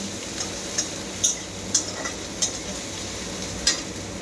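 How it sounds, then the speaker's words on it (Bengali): Onion tempering sizzles steadily in hot oil as dal is added, a continuous close frying hiss broken by a few sharp metallic ticks of a utensil against the pan. "এরকম পেঁয়াজ দিয়ে ফোড়ন করে ডালটা দেবো।"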